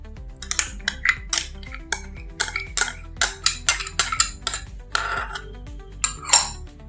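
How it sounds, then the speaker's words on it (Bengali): A metal spoon mixes sour yogurt and oil into orange cake batter in a bowl, giving a run of sharp, irregular clinks and scrapes against the bowl, close and fairly loud, with no talk. "টক দইটা দেওয়ার পরে খুব ভালো করে মিশিয়ে নিতে হবে।"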